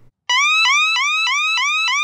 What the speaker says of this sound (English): or they can do a yelp tone.